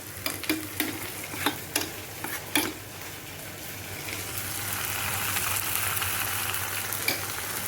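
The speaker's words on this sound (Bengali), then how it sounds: "এখানে আমি আদা পেস্ট দিচ্ছি" Ginger paste frying in a pan for a Bengali egg and potato curry, opening with a few sharp clinks and stirring taps, then a steady close sizzle that swells and holds to the end.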